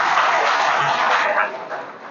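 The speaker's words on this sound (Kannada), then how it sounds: "ಜೋರಾದ ಚಪ್ಪಾಳೆ ಕೊಡಿ." Steady applause from an audience at a Lions Club of Sira installation and awards ceremony, a dense, even patter of clapping filling the whole moment without letup.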